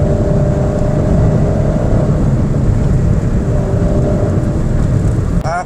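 A 2022 Toyota Raize's engine pulls at half throttle from inside the cabin, a steady loud drone with road rumble and air-conditioning noise that holds even throughout, then cuts off with a brief rustle at the end.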